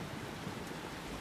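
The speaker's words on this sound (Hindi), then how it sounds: "देखो बारिश हो गई" Cartoon rain falls as a steady, soft hiss of drops, faint and even across a brief moment with no voices.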